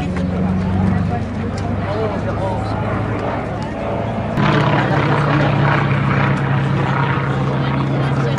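A nine-cylinder radial aircraft engine rumbles loudly and steadily, its pitch shifting midway, with a voice speaking over the roar, at an air show at Saint-Dizier air base, France.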